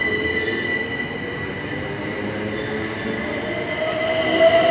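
Electric multiple unit 387167 departing Cholsey station, a loud continuous rumble of wheels on rail with a sustained high-pitched wheel squeal and motor whine rising toward the end.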